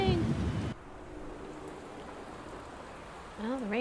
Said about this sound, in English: Well, the rain has arrived.